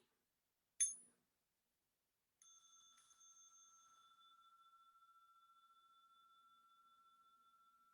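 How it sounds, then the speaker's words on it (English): A small meditation bell is struck once with a soft click, then rings with a faint, pure tone that sustains and slowly fades over several seconds in a quiet room. "small bell for stretching and massage."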